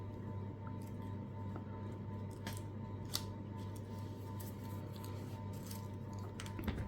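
Scissors snip through tulip stems in short, crisp cuts, spaced irregularly over a quiet background with a steady low hum, a few sharper clicks standing out among them.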